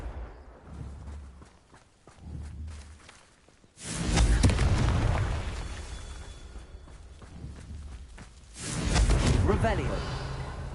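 Two blasts of the explosive Confringo spell in Hogwarts Legacy, each a sudden loud, roaring burst that lingers for a few seconds, with quieter rumbling and thuds before and between them.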